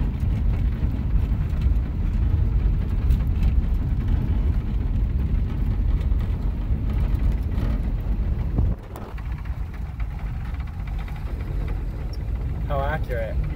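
A 1960 Rambler American drives along with a low, rumbling engine and road noise filling the cabin, dipping and shifting partway through, while people talk over it.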